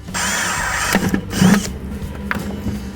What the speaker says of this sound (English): let's see if we can drill through this bucket with what I've chosen